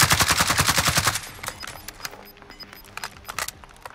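Rapid automatic gunfire bursts loudly through the first second in Call of Duty: Warzone, then give way to scattered single shots and clatter further off.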